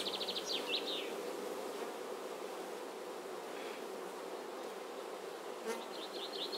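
Honeybees buzzing in an open hive, a dense steady hum of many insects, with a few individual bees passing close at times.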